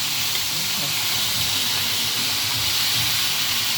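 Fish frying in hot cooking oil gives off a steady, dense sizzle and hiss that holds even and loud throughout, with no pauses or breaks.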